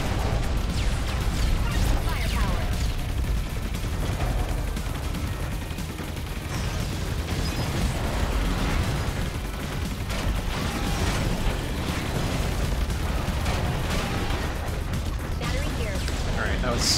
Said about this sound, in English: Explosion of color and noise.